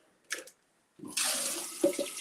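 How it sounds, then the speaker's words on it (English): Hot water running from a kitchen tap, a short splash and then a steady close gushing stream into a sink. "Let me get some more hot water, y'all."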